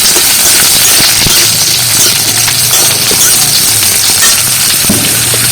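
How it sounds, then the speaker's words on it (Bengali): Potatoes with green chilli frying in a pan give a steady, loud, close sizzle with occasional stirring knocks, continuous and without voices. "আলুগুলো একটু ভাজা ভাজা হয়ে গেছে"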